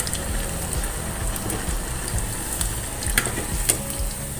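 Vegetable fritters (bakwan sayur) frying in hot oil, a dense continuous sizzle and crackle with a few sharper pops, close and steady, with no voices.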